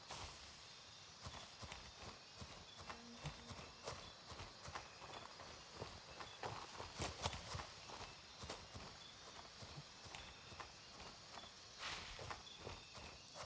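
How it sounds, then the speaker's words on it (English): Footsteps approach in the jungle setting of the shooter game Gray Zone Warfare, a faint run of irregular crunching steps under a constant ambient wash, growing a little stronger toward the middle and again near the end. "I am hearing footsteps coming up on me"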